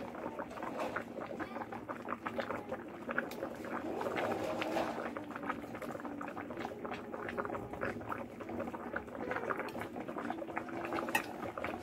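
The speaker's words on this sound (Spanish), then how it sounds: "Todavía va hirviendo, ¿eh?" Beef broth boils in a pot, a dense, continuous bubbling and popping patter close by, steady for about twelve seconds with no talk.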